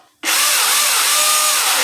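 Milwaukee electric chainsaw starts abruptly and runs at a steady, loud whine inside a closed garage, a continuous motor tone with faint pitch wavering and no talking.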